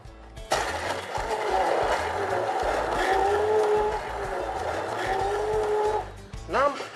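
A blender grinds 100 grams of almonds with about 300 ml of water, a loud steady motor whir that runs for several seconds, then cuts out near the end.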